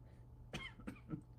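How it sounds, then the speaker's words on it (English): A single small cough from a person at close range, faint against a steady low hum, with two lighter throat sounds following within about a second. "and then I just had a little cough"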